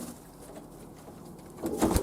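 Pigeons in a young-bird kit coo softly in the background, the low calls faint at first, with a louder flutter or movement close by near the end.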